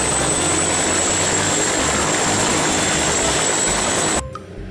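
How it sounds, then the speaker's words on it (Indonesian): A toy helicopter gives a loud, steady whirring drone that holds evenly for about four seconds, then cuts off abruptly into near silence. "Ini adalah pesawat helikopter."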